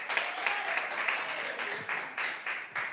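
Church congregation clapping during a Pentecostal-style sermon, a faint, even patter of many hands with a loose rhythmic pulse, heard from some distance.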